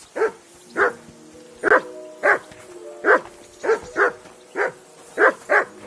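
A dog in the video game Kingdom Come: Deliverance barks loudly and steadily, about ten evenly spaced single woofs over roughly six seconds, each close and clear against a quiet background.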